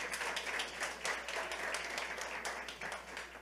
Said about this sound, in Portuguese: Dê um aplauso ao Senhor pela vida do Davizinho nosso aqui